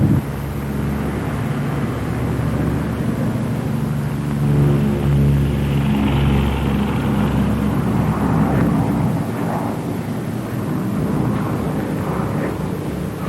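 Lockheed P-38 aircraft flying on one engine after the other has quit, a steady, loud droning engine rumble with a fairly even, continuous tone throughout, no voices.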